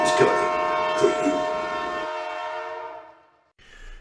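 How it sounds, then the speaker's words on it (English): A ghost train sound effect: a long, droning horn-like chord with eerie sustained tones and a couple of rattling accents, fading out before a short burst of noise. "the ghost train is coming for you"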